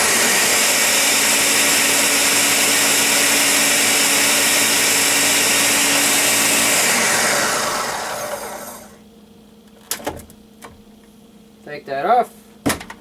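A Ninja Pro N600 blender whirring loudly for about eight seconds while blending a smoothie, then winding down into quiet, followed by brief clicks and handling noises.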